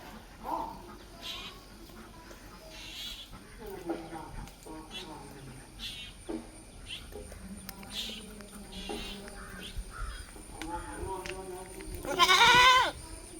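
Young crossbreed goat kids bleat several times at a livestock sale, with one loud, close bleat near the end, while a voice talks over steady background noise.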